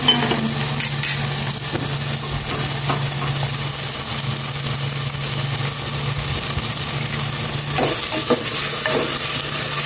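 Onion, chili and tomato sizzle and fry in a pan, with steady loud crackling and the scrape of stirring throughout, a low hum running underneath, and no talking.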